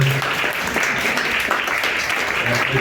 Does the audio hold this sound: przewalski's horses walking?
no